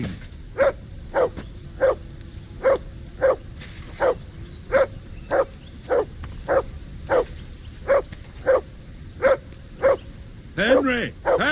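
A dog in the video game Kingdom Come Deliverance II barks in a steady run of about seventeen sharp, evenly spaced barks, loud and close, with a short burst of speech at the very end.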